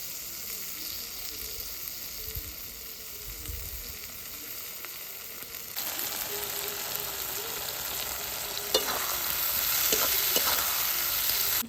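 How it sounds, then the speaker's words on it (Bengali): Chicken frying for a Bengali kosha mangsho, with ginger-garlic paste added and stirred through it; a steady close sizzle that grows louder and brighter halfway through, broken by a few sharp scrapes near the end. "নেড়ে নেব হ্যাঁ এবার আদা রসুন বাটা দিচ্ছি হ্যাঁ"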